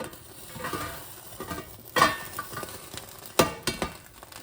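Chicken and rice cook in a pan with a low sizzle, broken by several sharp scrapes and clinks of a utensil stirring against the metal, close and moderately loud, with no voices.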